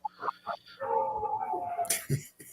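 An injured dog heard on a played-back recording gives strained, breathy whimpers and wheezing cries, with short yelps at the start and a drawn-out whine through the middle, with a sharp burst near the end.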